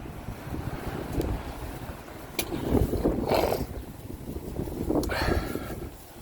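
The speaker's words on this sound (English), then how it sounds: "it's getting windy" Wind gusts outdoors and buffets the microphone in rushing, uneven surges that swell and fade over several seconds, with no clear talk.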